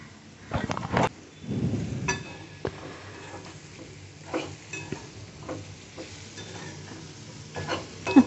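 Raw green mango pieces sautéed in a pan with a seasoned oil tempering, giving intermittent stirring scrapes and soft sizzling bursts, moderately close with quiet gaps between strokes.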